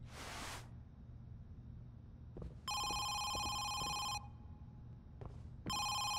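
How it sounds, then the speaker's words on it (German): Telephone ringing in the horror video game Home Sweet Home: two long, loud electronic ring bursts separated by a pause, each preceded by a brief hiss, heard alone without talk. "Das ist das Telefon hier oben."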